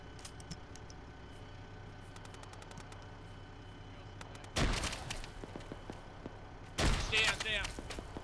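Grenades burst in the ShackTac military video game, two loud, close explosions separated by a few seconds, with scattered gunfire pops and rattles around them.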